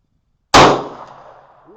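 Single sharp pistol shot from a Magnum Research 1911G10 firing Armscor ammunition at an outdoor range, a loud close crack after a brief silence, trailing into a fading echo.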